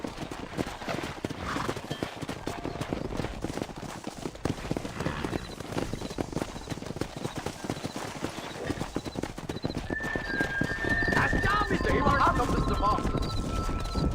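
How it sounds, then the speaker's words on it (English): Horse hooves in the video game Red Dead Redemption clip-clop steadily through the whole stretch during a cattle drive along a road. Wind or herd noise thickens toward the end and a brief whinny-like cry rises near the close. "Control that horse, will you?"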